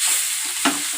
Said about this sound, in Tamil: நல்லா வெங்காயம் வந்து வதங்கிடுச்சு